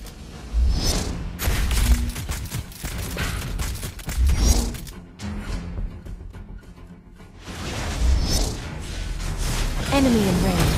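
Lesley's gunshots in the Mobile Legends video game crack out as repeated sharp bursts amid swooshing effects and game music, with in-game voice lines speaking over them.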